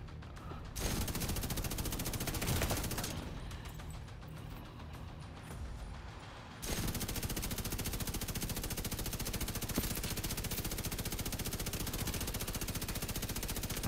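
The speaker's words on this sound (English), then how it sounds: "So I was shooting the shielded character, tagged him, then I went after his shield." Rapid automatic gunfire from a shooter video game rattles nonstop, dense and loud, with a brief drop in intensity before the firing resumes at full volume.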